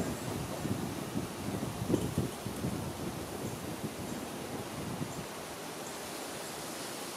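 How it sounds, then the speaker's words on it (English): Strong wind blowing through trees ahead of a thunderstorm, a steady broadband roar with gusty surges that eases toward the end, with no voices. "See the trees are blowing around pretty good, the wind."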